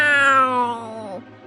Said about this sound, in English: they were greeted by a big and ferocious cat